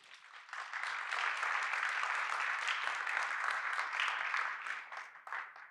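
Sustained audience applause at a festival opening evening following a music performance, steady dense clapping holding for several seconds before tapering near the end.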